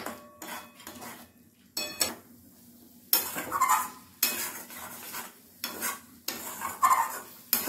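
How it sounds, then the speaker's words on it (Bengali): Paneer coated in gram flour is stirred in a pan, with repeated clattering scrapes of a utensil against metal in bursts separated by short quiet gaps and a faint sizzle underneath. "এটাকে কিন্তু কন্টিনিউ এভাবে আমি নাড়াচাড়া করছি"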